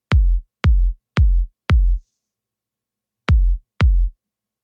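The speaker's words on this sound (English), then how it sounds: "This is a basic 4 to 4." A basic four-on-the-floor deep house kick thumps alone: four evenly spaced, punchy low hits, a pause, then two more, dry and loud.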